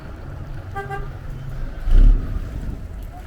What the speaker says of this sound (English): I'm about to get run over by a bus if I don't move.